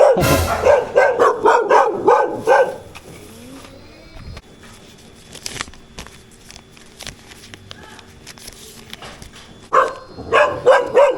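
Several dogs bark repeatedly and loudly nearby on a street in Laguna, Philippines, fall quiet for a stretch of low background noise, then erupt into barking again.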